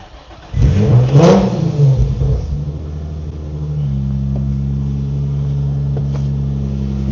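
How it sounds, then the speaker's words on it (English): An Infiniti Q50's twin-turbo VQ V6 engine blips with a loud rev that rises and falls, then settles into a steady, rumbling idle heard close by with no talking. "that's what a VQ sound like"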